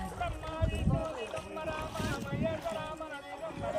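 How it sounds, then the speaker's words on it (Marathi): A boat moves across open water on the way to an island, with a low churning rumble and wind buffeting the microphone, close and moderate in level; a voice can be heard faintly under the noise. "एक ठिकाणी थोडंसं पाणी जास्त असल्यामुळे आम्ही बोटीचा वापर केलेला आहे"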